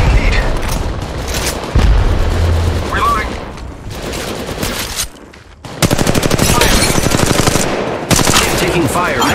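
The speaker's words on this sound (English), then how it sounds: "The enemies are shooting at me." Rapid automatic gunfire and heavy shots from enemies in the Apex Legends Mobile battle royale game, coming in dense bursts with brief pauses and a louder stretch near the end, alongside in-game sound effects.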